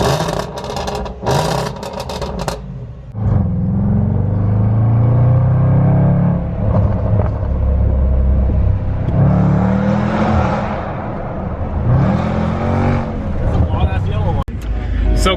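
Straight-piped Range Rover SVR at a car meet, its engine revving in several rising and falling pulls, loud and close, with people talking around it.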